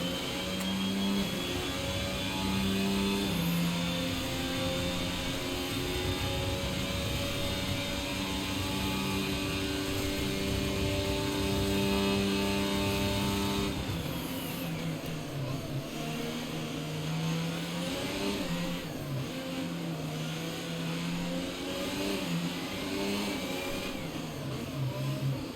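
In the F1 22 video game, a Formula 1 car rounds a tight left-hander on the Miami circuit, its high-pitched engine whining steadily, then dropping and climbing through gear changes, loud and continuous with no voices.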